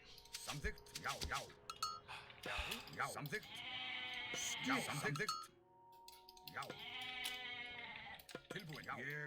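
Goats bleat in a video game during a tournament match, with several wavering calls in a row and light metallic clinks alongside.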